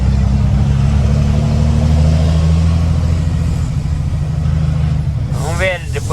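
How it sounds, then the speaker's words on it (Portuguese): Deep, heavy engine roar of a loaded dump truck working in a town centre, a loud rumbling drone that shifts pitch and then fades slightly, with a voice speaking briefly near the end. "Caminhão carregado é outra coisa o ronco, né, galera?"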